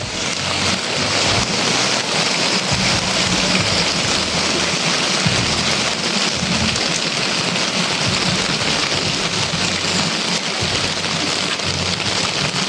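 Heavy rain pours steadily onto Manila streets, a loud, dense, unbroken roar of water that goes on without pause.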